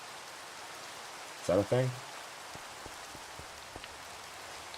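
Steady rain in the video game Minecraft, a soft even hiss with faint scattered drops that runs through the whole stretch, with a brief spoken question near the start.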